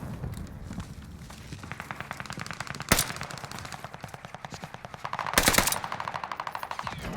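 Rapid automatic gunfire in Call of Duty Warzone on the Caldera map rattles in a continuous stream of shots, with two louder, sharper bursts cutting through.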